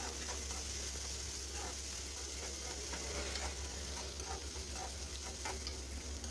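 Sprouted legumes (mixed sprouts) fry in a pan for a palya, a constant dense sizzle with busy stirring and scraping throughout, fairly close and with no talking.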